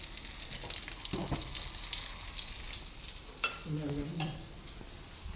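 Ready-made demi-glace sauce warming in a pan in a hotel kitchen, with a soft, steady sizzle and faint bubbling running throughout, plus a couple of brief clinks from utensils near the middle.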